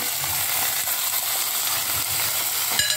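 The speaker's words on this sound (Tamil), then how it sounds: "இப்போ இந்த காயெல்லாம் இதில் போடுறேன் வெங்காயத்தோடு." Chopped vegetables and onions sizzle in hot oil in a frying pan, a bright continuous crackling hiss with small stirring clatters, close and steady, ending with a brief utensil knock.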